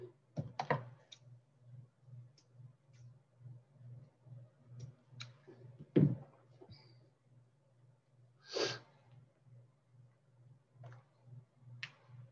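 Scissors cut ribbon for a small craft bow for a mini scrapbook, giving a few sharp, close snips and clicks over a steady pulsing hum, with no talking.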